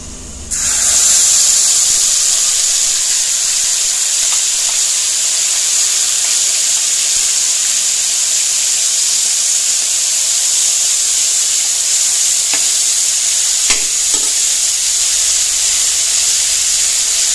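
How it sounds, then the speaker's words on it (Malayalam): Red chilli paste added to hot oil with crackled fenugreek seeds, a loud steady hiss of frying that starts abruptly and holds evenly throughout, with a couple of faint clicks near the end. "അപ്പോൾ ഉലുവായ ഏകദേശം പൊട്ടി ഞാൻ ഈ പേസ്റ്റ് ചേർത്ത് കൊടുക്കാം"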